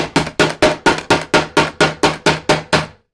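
A hammer strikes a Shaq Fu video game cartridge eleven times in a fast, even rhythm, each blow a loud, sharp, close crack, with nothing else heard.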